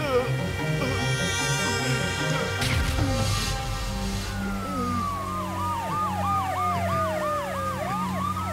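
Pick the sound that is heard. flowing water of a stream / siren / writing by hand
siren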